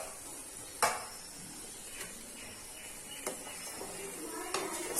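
A dried fish gravy simmers softly in a pan while a spoon stirs it, with a low bubbling hiss throughout and a few sharp clinks of utensil against the pan, quiet and close.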